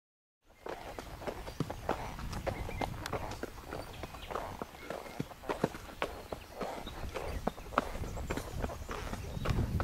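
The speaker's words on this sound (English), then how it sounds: "my horse is too tired to go any faster than a deadly slow walk" A tired horse on an endurance ride walks slowly, hooves clip-clopping in an uneven steady rhythm, close and moderately quiet against soft outdoor background noise.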